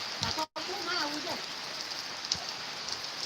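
Steady rain falls outdoors around playing children as a fine, even hiss that runs throughout, with a few brief voices and small knocks breaking through faintly.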